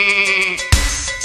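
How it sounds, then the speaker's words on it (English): Goat bleating: one loud, wavering, nasal bleat followed by an abrupt noisy burst, heard up close and alone. "Goat."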